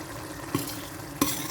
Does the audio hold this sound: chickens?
no